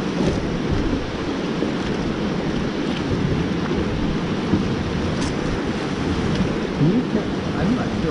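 Steady rain pours with low rumbling, likely thunder, at the Colorado River in the Grand Canyon, a dense continuous wash of noise with faint voices briefly underneath.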